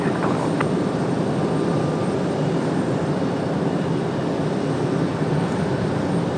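A Delta airliner takes off from runway 5 left at Raleigh-Durham International Airport, a steady, loud broadband engine roar with a deep rumble that holds evenly throughout, with no voices.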